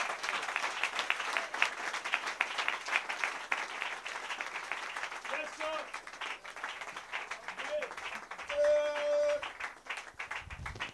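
Church congregation applauding throughout a French-language service, dense steady clapping filling the space with a few brief voices and tonal sounds rising near the end.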